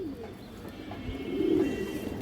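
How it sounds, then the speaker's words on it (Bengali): Old-bloodline Muslidom pigeons give a soft, low coo, a short murmuring call close by against a faint background hum. "এই যে দেখেন পুরনো ব্রাড লাইনের মুসলদম কবুতর দর্শক"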